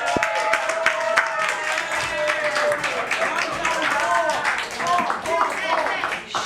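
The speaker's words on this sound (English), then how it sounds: "Please, you can clap and applaud," Clapping and cheering from an audience in a city commission meeting chamber after a split vote on a motion, a dense crowd noise with voices calling out over steady applause.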